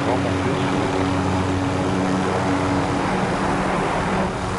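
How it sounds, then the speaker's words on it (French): Helicopters in Call of Duty Warzone give a continuous loud rotor drone with low humming tones, steady throughout, and game noise mixed in. "T'as deux hélicos en face hein."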